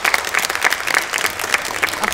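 A studio audience at a television show claps warmly and steadily, a dense close patter of many hands continuing throughout without a break.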